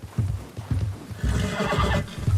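A horse whinnies and neighs repeatedly while trudging through snow in the open-world western game Red Dead Redemption 2, the close, loud calls rising over hoof clops and wind hiss.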